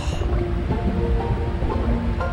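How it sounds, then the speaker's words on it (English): Steady rushing waterfall from the water dungeon in the Skies of Arcadia video game, a continuous broad wash of falling water with no breaks and no voices. "And there's a waterfall."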